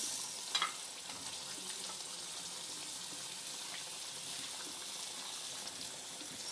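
Tomatoes go into a masala of ground onion frying in a pan for chicken karahi, giving a steady close hiss and crackle with a small clatter near the start and no talking.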